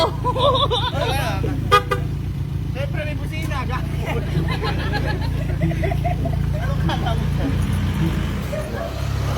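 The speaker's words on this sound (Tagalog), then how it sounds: "Siyempre may busina." Car horns toot repeatedly amid busy street traffic and a babble of voices, with some short honks close by and others farther off.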